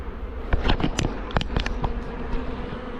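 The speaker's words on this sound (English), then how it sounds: "There's a good amount of bees in there still, and on the front" Honey bees buzz steadily around an open hive during a swarm transfer, a dense close drone with sharper passing buzzes and a few soft knocks of handled hive parts.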